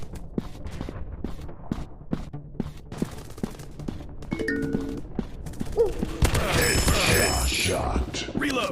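Rapid, sharp gunshots in a PUBG-style first-person shooter video game crack out in quick bursts and single shots, with mechanical clicks and a busier burst of fire toward the end.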